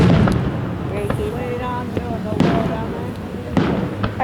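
Loud July 4th fireworks over South Haven, Michigan, thudding in a series of broad booms about a second apart, with crowd noise and voices underneath throughout.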